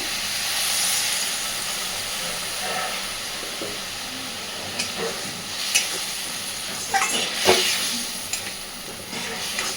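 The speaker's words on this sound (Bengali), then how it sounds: "সুন্দরভাবে এবার মশলাটাকে একটু কষে নেব ভালো করে। এখানে আমি আরেকটু জল দিচ্ছি।" Spice paste for a pointed gourd kofta curry sizzles and hisses in a pan after a splash of water, with steady steam noise and a few sharp clatters of stirring toward the end.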